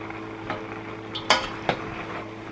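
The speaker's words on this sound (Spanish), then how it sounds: "Vamos a batir bien." Chinese-style fried rice being stirred in a pan: a soft, steady sizzle under a few light scraping clinks of a utensil against the metal, close and quiet, with no talking.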